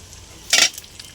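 Dried red chilli and nigella seeds dropped into hot oil burst into a loud, sharp sizzle that flares suddenly, then quickly dies back to a faint hiss, close up.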